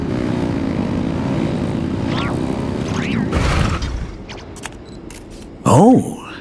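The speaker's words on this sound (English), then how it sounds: "Rev the engines!" A game engine revs in Genshin Impact, a steady droning roar with a few rising whooshing sweeps, ending in a louder burst near the close.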